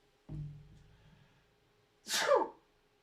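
A short intake of breath, then a single sharp, loud sneeze close by in an otherwise quiet room.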